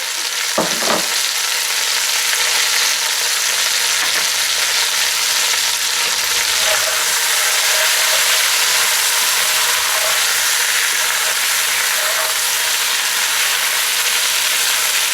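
Rabbit pieces fry in a pan with onions and garlic for rabbit stew, giving a loud, continuous close sizzle with a couple of brief stirring knocks early on, and no talking.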